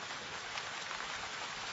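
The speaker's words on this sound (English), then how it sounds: "Got caught in the downpour there, Mr. Mortlake?" Steady rain pours down in a heavy downpour as a sound effect in an audiobook drama, a dense, even hiss of falling water with no voices, constant and moderately loud throughout.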